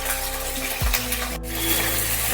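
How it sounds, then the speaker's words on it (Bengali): Cauliflower florets dropped into hot mustard oil in a kadai, giving a sudden low thump followed by a steady, close, loud frying sizzle with a faint stirring scrape, no voices. "তেল গরম হয়ে গেছে, এবার আমি ফুলকপিগুলো দিয়ে দিচ্ছি।"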